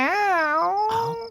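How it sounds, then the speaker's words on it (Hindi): A cat meows loudly and close by in one drawn-out, wavering call, with a brief rustle at the end and no other voices. "साला बिल्ली ने भी परेशान करके रखा है।"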